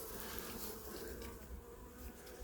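A small honeybee swarm hums at a feeder in late winter, a steady close drone of many wings with no pauses and no voices.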